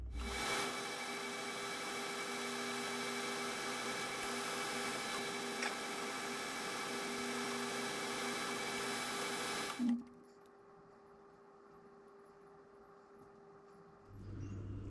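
A drill bores out a hole in bronze to 17.5 mm, a steady grinding whine with a constant tonal hum for about ten seconds, ending abruptly with a short clunk, followed by quiet machine hum and a faint restart.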